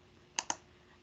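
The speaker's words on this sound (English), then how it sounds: "I see some folks were typing" Two quick, crisp keystrokes on a computer keyboard, close and isolated, spaced about a tenth of a second apart over a quiet background.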